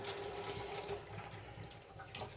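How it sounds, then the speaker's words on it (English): Hot water running from a household tap into a bucket, a steady splashing rush that holds through the whole stretch, close and moderately quiet, with no talk. "I'm going to use pure hot water out of the tap."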